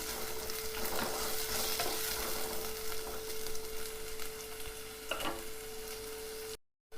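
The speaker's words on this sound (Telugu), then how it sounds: "ఉల్లిగడ్డ పచ్చిమిర్చి మంచిగా వేయించుకోవాలి." Onion and green chillies fry in a pan for an egg curry, a steady broadband sizzle with occasional stirring scrapes and a constant faint hum, no talking, ending in a brief silence.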